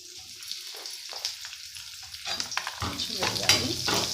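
Raw mango pieces drop into hot oil with curry leaves, starting with a quiet crackle that swells into a loud, dense sizzle and spatter in the second half, close by and with no talking.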